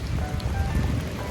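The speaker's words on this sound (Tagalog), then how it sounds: "na umaambon" Light drizzle falls outdoors near a pechay vegetable plot, a soft, steady patter of rain on surfaces with no voices over it.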